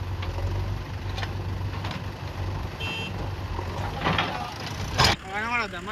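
Tractor engine running in a village, a low steady rumble throughout with clanks and knocks, and a voice talking near the end.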